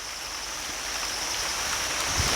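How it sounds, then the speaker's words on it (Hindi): Steady rain hisses softly and evenly, a constant wash of falling water with no voices. "बारिश आ गई, पानी बरस रहा है"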